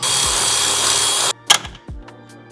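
A power drill boring holes into the door of a 2019 or later Mercedes Sprinter van, a loud close whine that stops abruptly, followed by a few sharp knocks and clatters.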